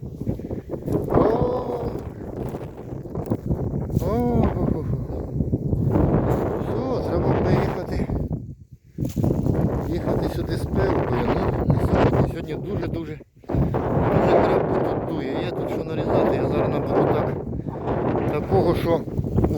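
Strong gusts buffet the microphone almost nonstop, with brief lulls, while someone speaks through the rumbling wind.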